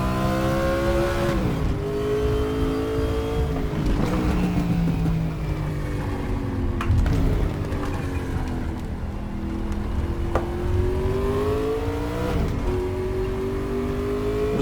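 Race car engine from the RaceRoom Racing video game running laps on a 5-speed gearbox on cold tires, a loud, steady engine drone with rising and falling pitch through gear changes, continuous and close, with no voices.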